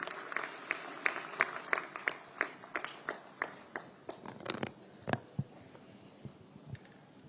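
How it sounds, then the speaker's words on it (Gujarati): An audience applauds to welcome Chief Minister Bhupendra Patel at the Amul AI initiative launch in Anand, giving steady rhythmic clapping at moderate distance that thins out to a few scattered claps toward the end. "મુખ્યમંત્રી શ્રી ભૂપેન્દ્રભાઈ પટેલ સાહેબને આવો ખૂબ તાળીઓના ગુંજારવ સાથે આવકારીએ"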